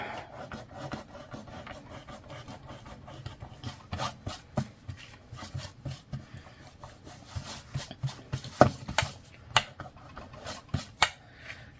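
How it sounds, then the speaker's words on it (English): Dried Fabri-Tac glue is rubbed off a cutting mat by hand, making a close, rhythmic series of dry scraping and rubbing strokes that grow louder and more spaced toward the end. "This is one thing I do like about Fabri-Tac, is you can just rub it off."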